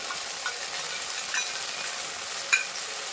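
Fish kalia curry made with silver carp is stirred in a pan after beaten yogurt goes in, a light continuous sizzle with a few faint scrapes and taps from the spoon.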